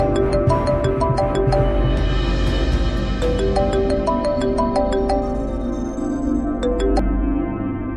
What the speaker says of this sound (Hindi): प्याज भाई आपका फोन बज रहा है।